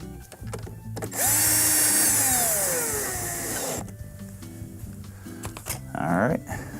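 A power drill drives screws into a Samsung dishwasher base during repair, with a loud whirring burst of about three seconds that slows as the screw seats, then a shorter burst, with handling clatter around it.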